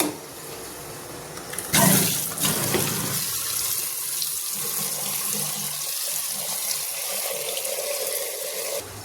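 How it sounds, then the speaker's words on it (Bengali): Water runs steadily into a pressure cooker as lentils (dal) are rinsed, a loud gush at first that settles into a continuous hiss of flowing water. "এখানে একটা কুকারে নিয়ে নিয়েছি ডালগুলা, ভালোভাবে ধুয়ে নেব"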